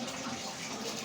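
Water poured steadily during a full-moon temple festival in the Tamil month of Purattasi, a continuous close splashing gush with no talk over it.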